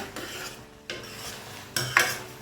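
Carrot halwa simmering in milk and sugar gets stirred repeatedly in a pot, giving rhythmic scraping swishes and a few sharper utensil clinks, close and fairly loud with no talk.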